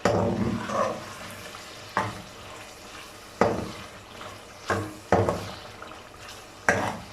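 Beef pieces are stirred into fried masala in a pot, a soft sizzle broken by about six separate scraping stirs at uneven intervals.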